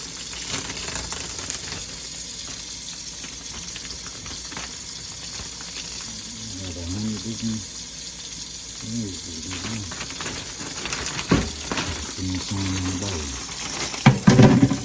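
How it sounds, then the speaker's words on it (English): A kitchen tap runs into the sink as chicken is set to defrost, a steady hiss of water that continues throughout under occasional quiet talk, with a few louder splashes near the end. "I'm gonna turn my water on and get it warm or cold."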